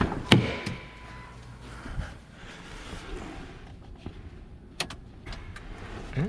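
Transfer case on a '98 Ford F150 engaging four-wheel drive: a couple of sharp mechanical clunks and clicks over a low, steady idle hum, close by with no talking.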